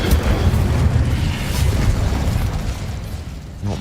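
The Incendio fire spell bursts out in Hogwarts Legacy as a loud, roaring blast with a whooshing, crackling rumble that holds steady for several seconds before easing off, with no voices over it.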